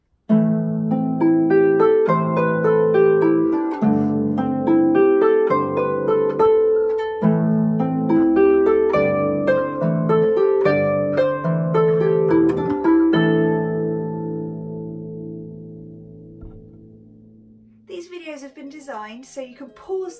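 Harp plays the closing two lines of a tune, plucked notes ringing in a steady melodic line over bass notes for about thirteen seconds before decaying, then a brief burst of bright, noisy sound near the end.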